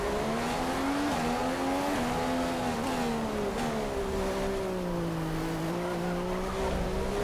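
A Formula One car from the F1 2015 video game braking late around the Monaco street circuit: a loud, continuous engine whine that sags and rises in pitch, with a rough tire-scrub hiss underneath and no talking.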